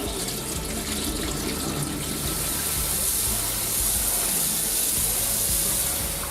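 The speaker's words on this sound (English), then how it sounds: "we're going to wash our rice in cold water" Cold tap water runs steadily into a bowl of rice being washed, a constant close hiss and splash throughout with no voices.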